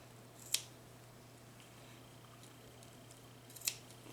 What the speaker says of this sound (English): I'm just going to take my scissors and we're going to snip a tiny little hole